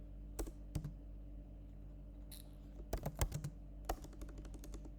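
Keys clatter on a computer keyboard while code is typed, coming in short bursts of quick taps separated by pauses, fairly quiet and close, with a low steady hum underneath.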